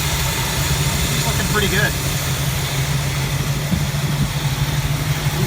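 Steady low idle of a Plymouth Duster 360 V8 engine with a noisy lifter rumbles continuously close by while someone speaks briefly over it.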